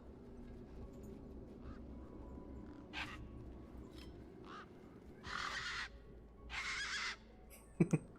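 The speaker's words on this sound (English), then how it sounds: "These were tough desert birds." Desert birds in the video game Beyond a Steel Sky give several harsh caws, a few short calls then two longer bursts, fairly loud over a low ambient game background.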